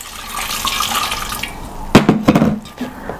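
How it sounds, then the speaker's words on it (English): Water runs and splashes into the boiler of a copper still for a moment, then a few sharp knocks and gurgling splashes follow as the flow stops. "we add some more water"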